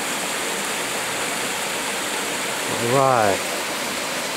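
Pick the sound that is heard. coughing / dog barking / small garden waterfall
small garden waterfall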